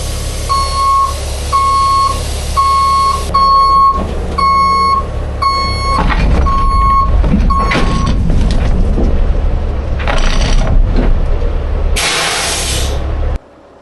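A truck backs up under a low-hanging hopper trailer with air ride lowered: a regular reversing beeper repeats about ten times over a rumbling diesel, followed by sharp hissing bursts of released air.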